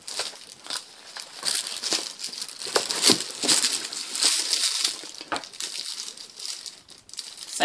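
Crinkly plastic rustling as a pink candy bag with a zipper is handled up close, steady crumpling and crackling throughout with no talking.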